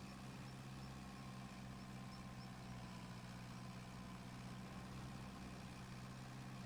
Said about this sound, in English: I can tell she's a older tractor. She does not want to get into gear.